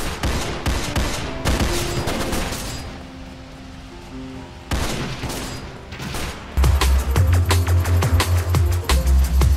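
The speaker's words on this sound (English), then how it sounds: "You will hear guns and that means that aliens are angry and want to hunt you down." Bursts of video-game gunfire from hostile aliens, volleys of sharp shots in irregular clusters, with a lull midway before a denser, louder barrage of rapid shots over a deep rumbling bed.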